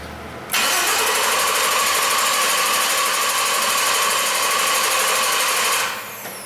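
A Jeep Liberty engine cranks without starting, the starter whirring in a steady, rapid, buzzing rhythm for about five seconds, loud and close, then stopping, with no voices.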